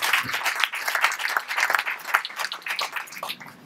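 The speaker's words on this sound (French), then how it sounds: "je vous remercie d'applaudir évidemment Monsieur Hulot" An audience applauds Nicolas Hulot, a dense wash of clapping from many people that holds steady and begins to thin toward the end.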